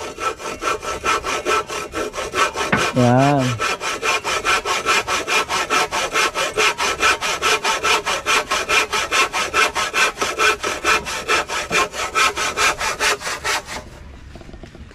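A hand saw rasps through wood in fast, even back-and-forth strokes for about fourteen seconds, loud and close, with a brief voice near the start.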